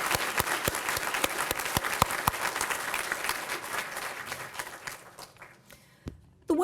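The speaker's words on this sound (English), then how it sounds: "So I'd like us all to give a round of applause to Griff and Pat" An audience at a university lecture applauding, dense clapping from a full room that carries on steadily before thinning out and fading toward the end.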